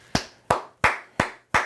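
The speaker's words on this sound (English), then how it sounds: "And I got to clap it up again for that." Five sharp hand claps spaced evenly about a third of a second apart, close and crisp, each snapping out and fading quickly in an otherwise quiet room.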